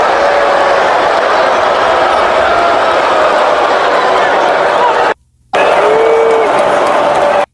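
A loud arena crowd at a WWE event roars throughout, a mix of booing and cheering that holds steady, broken by a brief silent gap before the noise resumes.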